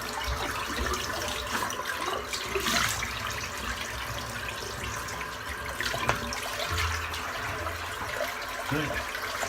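Fresh water runs steadily from a tap into a sink after shaving, a continuous close hiss and splash with small gurgles, no talking.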